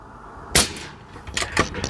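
A Barra 250z .22 caliber air rifle fires a sharp, close crack, followed after a pause by a few lighter metallic clanks and rattles from a small steel spinner target.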